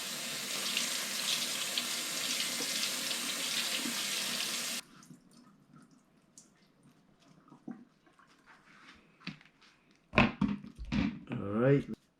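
Tap water runs into a sink to wash Romanesco broccoli, a steady close gush that stops partway through, followed by quieter handling sounds and a voice speaking.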